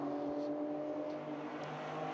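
A Ford Mustang GT4 race car on track at a GT4 European Series race in Jeddah, heard as a steady distant engine drone with tonal harmonics and a slight passing swell, fairly faint.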